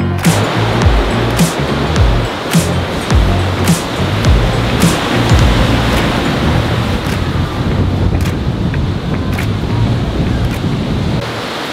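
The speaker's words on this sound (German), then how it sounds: "wir haben ordentlich Wind und Welle" Strong wind and breaking sea waves roar continuously aboard a sailing boat off Kap Arkona on Rügen in the Baltic, a dense, loud wash with gusty buffeting on the microphone and no voices.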